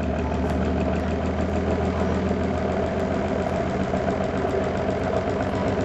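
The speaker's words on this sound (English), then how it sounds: "There's the wheel spinning up." A Bedini motor generator battery charger's wheel spins up, giving a steady, even mechanical hum with a faint rhythmic pulsing. It runs close and continuous throughout, with no talking.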